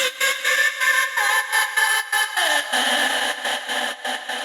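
A vocal chopped by a noise gate in sidechain mode, keyed by a programmed synth pattern, so the voice opens and shuts in a steady rhythmic stutter with a pitch step partway through.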